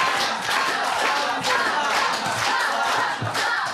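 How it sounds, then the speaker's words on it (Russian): Spectators in the stands at a quiz show yell loudly and out of sync, a dense, continuous crowd roar of overlapping shouts with no pauses. "кричат в разнобой трибуны, хотя бы могли бы договориться"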